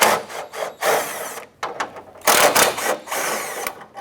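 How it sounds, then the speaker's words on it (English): Bolts are worked loose with a socket wrench on a 2006-2013 Chevrolet Impala bumper, bursts of close metallic ratcheting and scraping separated by short pauses. "On our center section, remove these two bolts."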